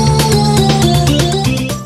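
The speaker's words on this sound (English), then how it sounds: "Now what if we replace the Earthbound sound fonts with Super Mario 64 sound fonts?" An arrangement with Super Mario 64 sound fonts: dense, loud chiptune-style game music with rapid plucked melody notes and steady bass pulses, no voices.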